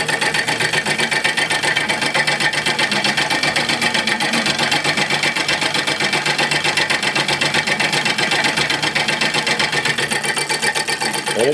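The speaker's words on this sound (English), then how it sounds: "Solenoid motors made from scrap parts." A homemade solenoid engine built from scrap parts runs fast and loud with a dense, even buzzing clatter of rapid mechanical pulses that holds steady throughout, close up and with no voices.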